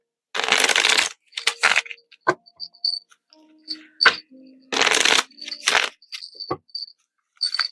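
Tarot cards are shuffled and drawn in several crisp bursts of riffling and dealing, with brief card slaps and softer handling sounds between them, close up and with no talking.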